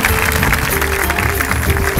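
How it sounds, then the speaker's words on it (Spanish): Audience applause at a dolphin show in the National Aquarium in Havana, Cuba: a steady, dense wash of clapping lasting the full two seconds, loud and close, with faint crowd noise and a voice mixed in. "Aplauso, caballero, aplauso."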